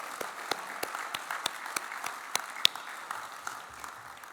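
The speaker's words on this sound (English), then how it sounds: "Would you please give them a round of applause?" A lunch audience at a Rotary centenary event gives a light round of applause for the past District Governors, with scattered claps over a soft, steady patter that fades out after a few seconds.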